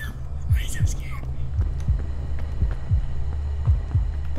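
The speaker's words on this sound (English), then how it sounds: "The heartbeat's getting louder." A Phasmophobia ghost-hunting game plays a heartbeat as a steady run of low, thudding double beats, close and prominent. A faint hum sits underneath, and soft voices come in near the start.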